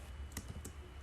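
Quiet computer keyboard with a couple of close, light key clicks over a low steady background hum, entering a cd command.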